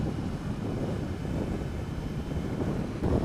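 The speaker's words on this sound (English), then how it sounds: "It's a very windy day." Strong wind buffets the microphone on a ride aboard a Honda CBR 500R motorcycle, a loud, steady low roar that swells slightly near the end, with no voices.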